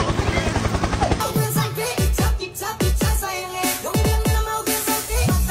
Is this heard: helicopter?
yes